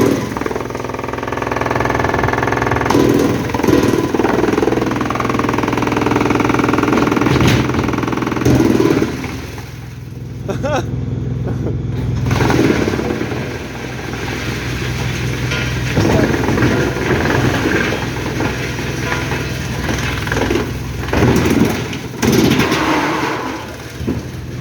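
A truck engine runs steadily at a forestry wood chipper site, a loud continuous diesel rumble with shifting revs and clanks throughout, briefly dropping near the middle before building again.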